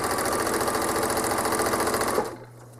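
Home sewing machine stitching through a quilt, a fast, steady, close mechanical whir that runs continuously, then stops abruptly near the end, leaving only a low hum.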